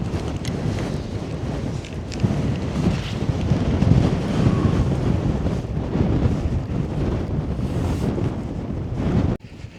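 Strong wind buffets the microphone on a mountain ridge near Glencoe, a loud, continuous rumbling roar with gusts swelling and easing, no voices, cutting off abruptly at the end.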